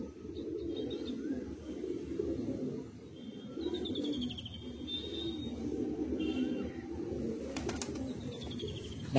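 Madrasi high-flying pigeons of Andhra lineage, including a kalsira cock and hen, coo in low, rolling, overlapping calls that continue steadily throughout, with faint chirps and a brief flutter of wings near the end.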